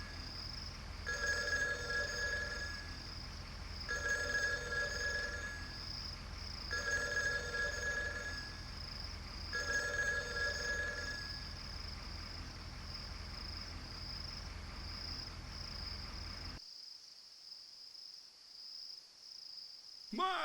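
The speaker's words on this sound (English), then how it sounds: "The telephone is ringing!" In the Ark of Time video game, a telephone rings in a hut with four evenly spaced electronic double-trill rings over a constant buzzing, insect-like background hiss, and then the sound cuts to near silence.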